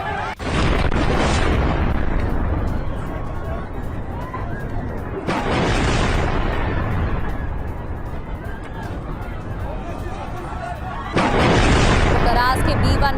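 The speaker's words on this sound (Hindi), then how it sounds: "करास के B1 पुल पर पहला धमाका, ये देखिए।" Loud booming explosions from an air strike on the B1 bridge in Karaj, Iran. Three heavy blasts arrive several seconds apart, each a broad roaring burst followed by rumbling, with crowd noise and shouting underneath.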